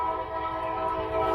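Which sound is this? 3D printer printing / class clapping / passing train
passing train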